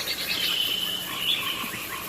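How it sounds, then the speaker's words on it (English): Crickets chirp in a steady, high-pitched trill against a quiet outdoor backdrop, soft and continuous. "Listen to the crickets."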